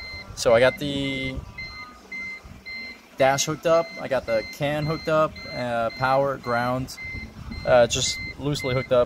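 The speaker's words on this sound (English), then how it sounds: "sorry for the beeping, but I need to have the key on." Someone talks steadily while a car's electronic warning tone beeps repeatedly in a steady pattern behind his voice, sounding because the ignition key is on.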